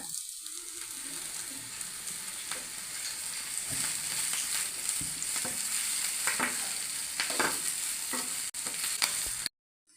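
Soya chunks fry in a pan for a masala dish with curry leaves: a soft, steady sizzle with repeated scraping stirs, close and fairly quiet, stopping abruptly at the end.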